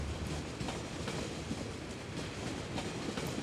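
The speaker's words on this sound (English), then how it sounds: "A little purple tram." A small purple tram runs through a snowy city in the Cities: Skylines game, a steady rumbling wash of rail noise with faint rhythmic clatter, continuous and fairly quiet, with no talking.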